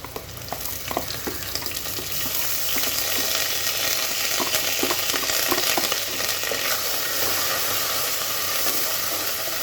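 Garlic and ginger paste fries with onions in hot oil, a loud continuous sizzle and hiss that swells after a couple of seconds, with occasional stirring clicks close by.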